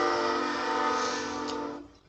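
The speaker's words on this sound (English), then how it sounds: "there's a train going by." A train horn blares nearby as a train passes, a loud sustained chord that holds and then fades quickly at the end, with no talking.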